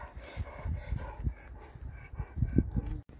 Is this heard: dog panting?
yes